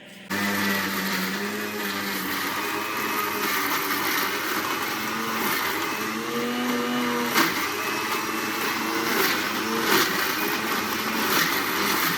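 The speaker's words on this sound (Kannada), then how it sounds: "ಮಿಕ್ಸಿಲಿ ಹಾಕಿ ಗ್ರೈಂಡ್ ಮಾಡೋಣ" A kitchen mixer grinder grinds apple, beetroot and carrot for ABC juice, a loud, steady motor whir with wavering pitch that runs alone for about twelve seconds.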